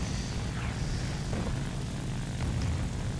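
A P-51 fighter plane's piston engine drones in a combat flight game, a continuous loud, rumbling propeller roar with slight swells and no speech.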